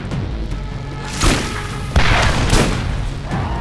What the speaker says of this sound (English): I am with my new rocket launcher